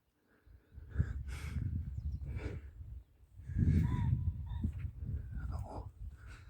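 Crows cawing outdoors at sunrise, several harsh calls in bursts at moderate distance over a low rumbling background, no talking.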